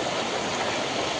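Swift floodwater surges past in a steady, dense rush during the 2025 Hailakandi flood, a loud continuous roar with no break and no voices.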